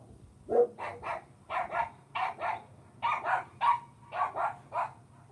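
Dogs bark in a quick, rhythmic string of about a dozen sharp, fairly close barks in short pairs and bursts over a low background hum, with no talking.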